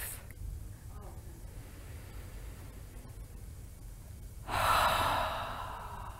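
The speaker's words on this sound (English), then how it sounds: "Breathing out of the mouth." After several quiet seconds of faint room hiss in a yoga breathing exercise, one close, airy exhale through the mouth swells up and gradually fades out.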